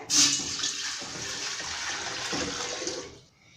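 A steady stream of about 1.5 litres of water pours and splashes into a cooking pot for a few seconds, loud and close, then tapers off.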